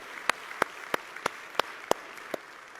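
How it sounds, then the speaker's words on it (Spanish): A few slow, spaced hand claps ring out one by one at a church service, faint and sparse, with about seven distinct claps at roughly even intervals rather than a full crowd ovation. "Dale un fuerte aplauso a él."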